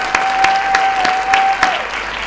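Applause from a crowd in The Lion's Song, steady clapping of many hands with a few louder swells, fairly close and clear, while a thin sustained tone runs beneath it.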